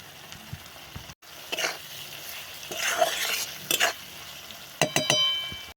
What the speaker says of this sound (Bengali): ভালোভাবে মশলাটাকে কষিয়ে নিতে হবে